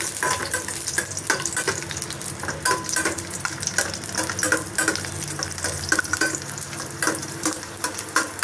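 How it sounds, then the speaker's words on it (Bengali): Whole dried red chillies fry in hot oil in a pan, with garlic nearby, giving a continuous close sizzle broken by frequent crisp crackles and stirring scrapes, with no voices. "ভাজা হয়ে গেছে, আমি লঙ্কাটা তুলে নিলাম।"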